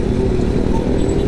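A sports motorcycle rides past close by, its engine a loud, steady low rumble over a brief moment.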